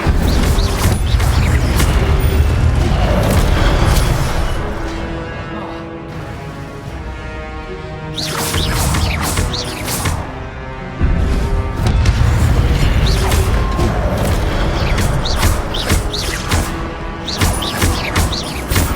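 Incendio fire spells cast repeatedly in Hogwarts Legacy gameplay: loud booming fiery bursts and crashing impacts that keep coming, with rumbling lulls between them, no commentary.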